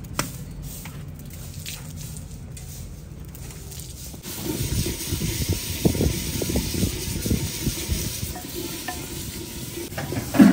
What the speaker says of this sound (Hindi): फाइनली मसाले ब्राउन हो चुके हैं, फ्राई हो चुके हैं